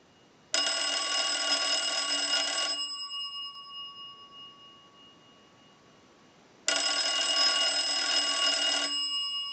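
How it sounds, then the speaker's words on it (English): An old telephone bell box rings on a ring cycle: two long bursts of loud, shrill metallic bell ringing, each about two seconds, separated by a long gap in which the ring fades and a faint tone lingers. "use the analyzer and send a ring cycle to the bell box"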